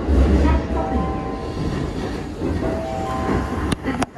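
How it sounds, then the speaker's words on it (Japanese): Interior rumble of a JR East Saikyo Line through local electric commuter train on the Tokaido freight line near Yokohama-Hazawa, with a steady low drone, faint tonal whine and two brief clunks near the end. "この電車は埼京線直通各駅電車新宿行きです"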